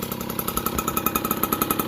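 A 1982 Yamaha YZ50 dirt bike's small two-stroke engine runs close and loud, with a steady fast, buzzing putter and a slightly uneven idle.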